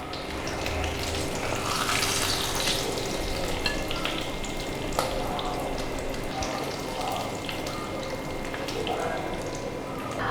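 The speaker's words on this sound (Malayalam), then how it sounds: "ഇനി നമുക്ക് ഈ സൈഡും കൂടെ ഒന്ന് ഫ്രൈ ആക്കിയിട്ട് എടുക്കാം." Fish frying in a pan on its second side, a dense, loud, continuous sizzle and spatter close by, with faint background voices underneath.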